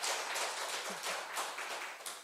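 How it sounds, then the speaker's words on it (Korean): A Korean church congregation at a Sunday worship service claps for a welcomed guest, a soft, distant patter of many hands that swells and eases slightly over a couple of seconds. "박수 한번 치겠습니다"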